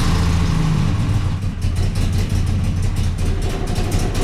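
A modified non-turbo Volvo engine runs loud and close, its deep steady rumble settling into idle with a slight lift in revs partway through.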